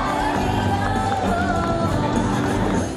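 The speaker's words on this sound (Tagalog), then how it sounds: "Sinalubong ng hiyawan at palakpakan ang pagdating ni Senator Jinggoy" A festival crowd in San Antonio cheers, shouts and applauds at Senator Jinggoy's arrival at a Tambo Festival bingo event, a dense, continuous roar of voices close by.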